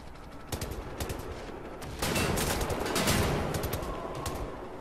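Rapid bursts of gunfire ring out in the video game Wolfenstein: The New Order, with dense, repeated shots at loud volume over a continuous action-game soundscape.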